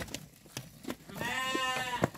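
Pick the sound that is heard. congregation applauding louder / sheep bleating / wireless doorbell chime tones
sheep bleating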